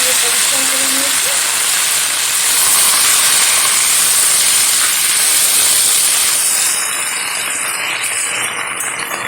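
Washed jute leaves hit a hot pan of fried tempering spices, and a loud, steady broadband sizzle hisses on without a break, easing slightly toward the end.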